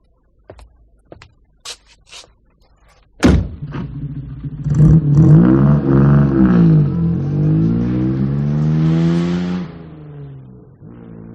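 Radio-drama effects set in 1963: a few car door clicks and a solid slam, then an engine turns over, revs in rising surges and pulls away, fading out.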